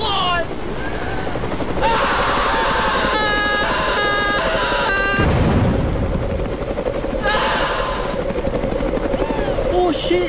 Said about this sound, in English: Who's flying the chopper?